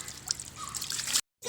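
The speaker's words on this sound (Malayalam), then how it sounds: "ആ നമുക്ക് നിച്ചുവിനെ കൂടി ഇച്ചിരി വെള്ളം ഒഴിപ്പിക്കാം." Water is poured over a pet rabbit during a bath, a close, trickling splash that runs steadily, breaks off briefly, then resumes.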